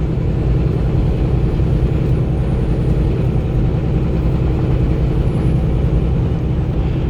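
Semi truck rolling downhill at highway speed, a constant heavy low engine and road rumble from inside the cab, loud and unbroken with no voices.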